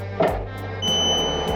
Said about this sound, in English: it beeps and goes back to single zone there, 11 degrees